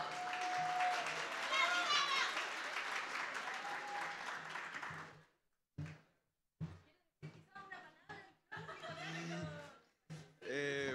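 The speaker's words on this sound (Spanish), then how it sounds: "Fuerte aplauso para Gama, que se ha merecido este tremendo" An audience at an awards night applauds loudly with some cheering for about five seconds, then the clapping stops and a single voice speaks in short bursts.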